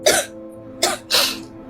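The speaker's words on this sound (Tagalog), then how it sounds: "Inuubo ka na naman" Three sharp, close coughs come in quick succession, the last one longer, with quiet pauses between them.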